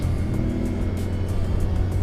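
Light vehicles drive across the Tagaytay flyover, a steady low engine and tyre rumble with cars passing close by.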